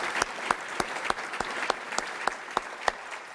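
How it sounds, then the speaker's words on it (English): A conference audience claps at welcome remarks, moderately loud with a few sharper claps standing out at a fairly regular pace throughout. "So please join me with a special round of applause for Erin and her team."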